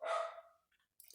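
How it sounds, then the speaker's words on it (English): A pet dog barks once loudly and close in an indoor room, the bark trailing off, followed by a couple of faint yips and a short rustle. "that's my dog"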